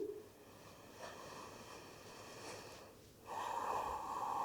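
Slow nasal breathing during a gentle yoga session for menstrual cramps, close and soft, with a long exhale followed by a louder, sustained breath after a brief pause.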